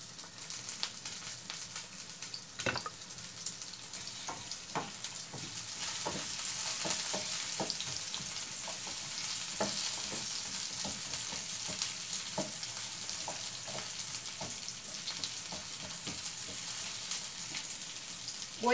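Diced tomato and cascabel chiles sizzle steadily in a pan while a spoon stirs them, producing scattered clicks and scrapes over a continuous frying hiss.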